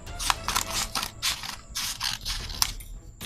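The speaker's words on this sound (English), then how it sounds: "We use the scissors to cut that side out." Scissors snip through dress fabric in a quick series of short, crisp cuts close up, with faint scraping between the snips and no talking.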